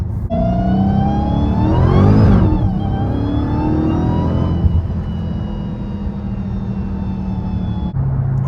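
A Dodge Hellcat Redeye engine revving loud and close, its high supercharger whine rising with the revs and then holding a steady pitch at high speed. No one talks over it.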